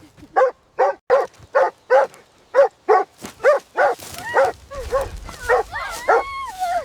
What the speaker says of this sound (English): Intense barking.